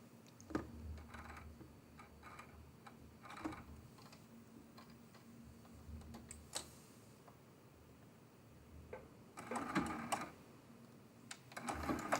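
A home sewing machine being set up for quilting stitches in short, uneven bursts of rapid mechanical ticking, separated by quieter pauses while its thread tension is adjusted, faint and close with no voices.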